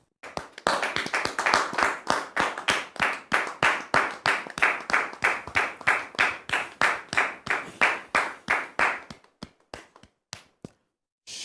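A studio audience claps for a guest pastor: about thirty sharp, evenly spaced claps in a steady rhythm, close and clear, tapering to a few scattered claps at the end, with no talk.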